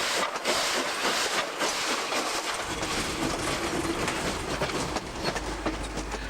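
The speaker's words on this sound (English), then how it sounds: "The train makes a spirited departure from Bungendore." A steam passenger train pulls away from Bungendore station in New South Wales with loud, continuous chuffing, hissing and rumbling, and no voices.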